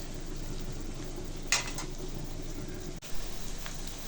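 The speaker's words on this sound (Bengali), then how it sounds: "পেঁয়াজের সাথে আমি শুটকিগুলো ভেজে নিব" Dried loitta fish fries with onions in a pan, making a steady, close hiss of sizzling oil throughout. A couple of brief scrapes or clinks break through the sizzle.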